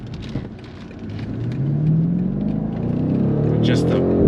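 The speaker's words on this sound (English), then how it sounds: "the torque, the sound of the V8" BMW M850i V8 engine accelerating hard, heard from inside the cabin as a deep, steadily rising roar that climbs in pitch over about four seconds, with faint talk early on.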